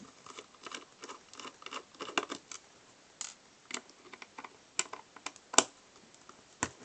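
A small screwdriver works the five screws out of a hard drive's top lid, producing a run of light, close ticking clicks and scrapes in irregular bursts with brief pauses between.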